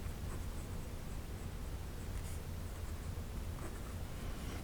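A Pilot Metropolitan Retro Pop fountain pen with a medium nib drawing lines on paper, giving a soft, steady scratchy writing noise under a constant low hiss, with no voice.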